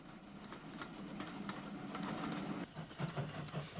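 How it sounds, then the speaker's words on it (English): Irish D5 class diesel locomotive number 347 hauling the Sligo portion of a passenger train: a faint, steady distant rumble with soft wheel clatter throughout. "D5 class 440 number 347 follows the Galway service with the Sligo portion of the train"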